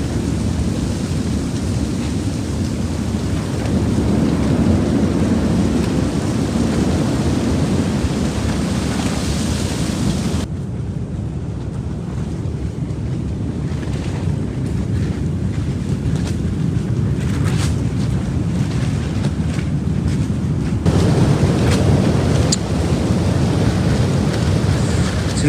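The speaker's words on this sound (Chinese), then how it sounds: "这一次风可是说见大风以来最大的一次" Strong gale of about force 6 buffeting a newly built arched vegetable greenhouse in a rural village, a loud continuous roar of rushing wind with flapping and rattling, easing briefly midway before surging again, with no talk.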